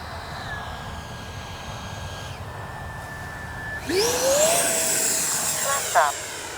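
A Freewing Red Hawk T1 70mm electric ducted-fan RC jet flies past with a steady whine that climbs into a louder, rising whoosh midway, alone with no talk.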